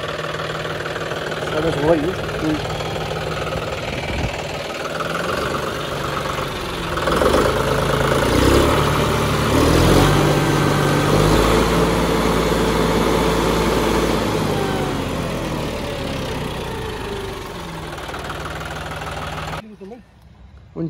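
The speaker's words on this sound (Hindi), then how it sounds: "गाइस ट्रैक्टर हो गया चल" A John Deere 5310 tractor engine runs steadily just after a service, a continuous mid-pitched diesel idle with some knocking, rising slightly louder midway, while someone talks over it.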